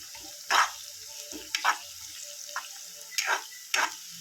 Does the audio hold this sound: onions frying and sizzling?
yes